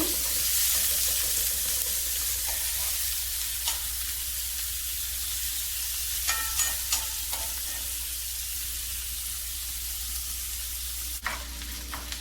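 Fresh prawns frying in a pan: a constant, close hiss of sizzling oil broken by occasional scrapes and clinks of stirring, with no talking.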